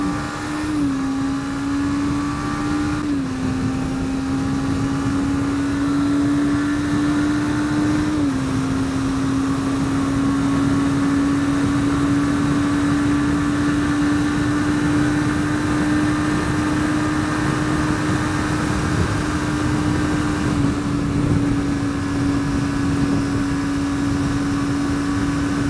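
Suzuki GSX250R motorcycle from 2017, riding at speed with its engine pulling steadily higher, heard as a droning tone that climbs and holds under heavy wind rush, with no talk.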